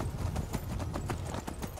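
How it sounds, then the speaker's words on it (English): Skyrim gameplay: rapid hoofbeats of a galloping horse pound close and steady for a couple of seconds, with no voices. "that should bring my horse a running. There he comes."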